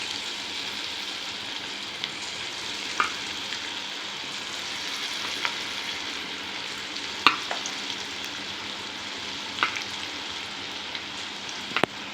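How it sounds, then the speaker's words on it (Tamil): Rava bondas fry in hot oil with a continuous close crackling sizzle, broken by occasional sharp clicks as they are stirred. "இப்போ வந்து இதை எண்ணெயில் பொறிச்சு எடுத்துடலாம்"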